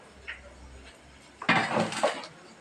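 A metal plate clinks and scrapes against a surface as food is set aside in a home kitchen, a short burst of close clattering after a quiet lead-in with a faint low hum.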